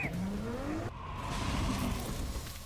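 A car in the animated series Devil May Cry drives up onto a ramp truck, an engine rising in pitch with a squealing tire sweep, then a steady mechanical rumble as it settles onto the ramp.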